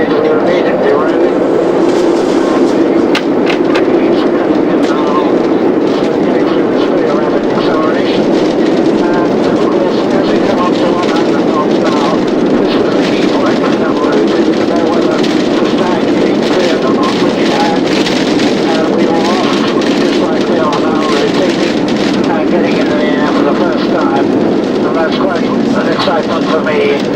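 Concorde G-BOAA's jet engines roar at full takeoff power, a loud, steady, broadband thunder that holds for the whole stretch while someone talks over it.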